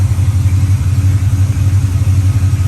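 A car engine runs steadily up close, its serpentine belt and clutch fan adding a low, even drone with a faint rhythmic pulse and no pauses.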